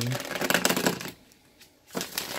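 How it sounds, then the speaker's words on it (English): Tarot cards are shuffled by hand in a quick riffle of crisp rapid flutters, a short burst, a pause, then another shuffle, close and clear. "Let's get one more good shuffle here."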